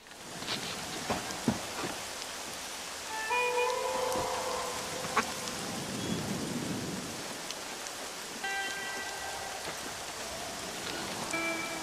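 Steady rain falls in a dark cemetery in the video game Red Dead Redemption, a continuous soft hiss with a few low thunder rumbles and scattered sharper drops, no talking.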